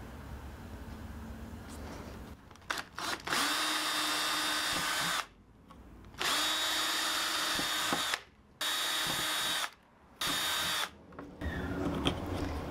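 A power drill bores a series of holes in a pipe for an aircrete foam generator, its motor whining in several long bursts separated by short pauses, close and loud.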